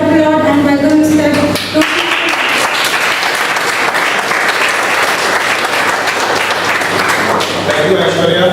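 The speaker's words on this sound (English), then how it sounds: "Please give a round of applause and welcome Mr." A Toastmasters meeting audience gives sustained applause to welcome a speaker, dense clapping lasting several seconds after a brief spoken introduction, with voices at both ends.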